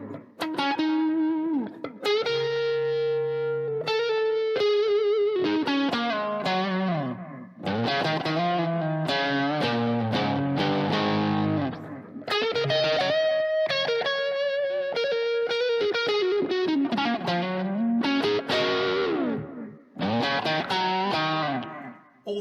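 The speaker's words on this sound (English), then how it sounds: "So the next game element is delay." Electric guitar run through a delay effect plays a sustained, distorted melodic line with repeating echoes trailing each note, loud and continuous throughout.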